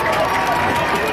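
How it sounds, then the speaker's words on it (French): An audience claps and cheers at a public celebration in Reims after a dance step is shown, a dense wash of applause and crowd noise, loud and continuous throughout the short stretch. "applaudissements"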